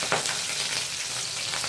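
Mustard seeds and green chillies sizzle in hot oil for lemon rice, a soft, even crackling hiss close by with no voices.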